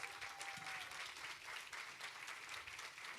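An audience applauds Procter & Gamble at an inclusion event, steady dense clapping throughout at moderate level, with a brief faint tone near the start.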